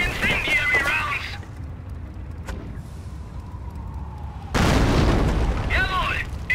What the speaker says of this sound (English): Incendiary rounds on the way!